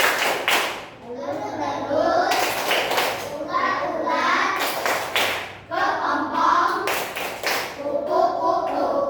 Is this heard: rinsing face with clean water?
no